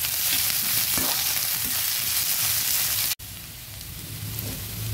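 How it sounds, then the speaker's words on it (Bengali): Mutton pieces with chopped garlic and slit green chillies frying in a pan, a steady loud broadband sizzle with a brief cut partway through, then continuing slightly softer. "এবার সব কিছু আস্তে আস্তে সুন্দর করে ভেজে নেব।"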